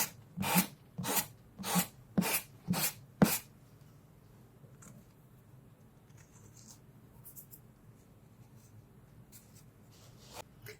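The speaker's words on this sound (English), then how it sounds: "I'm just going to rub the sanding sponge down in a downward motion" Sanding sponge rubbed in downward strokes along a canvas edge: six quick, even rasping swipes up close, then quiet with faint scattered rustles.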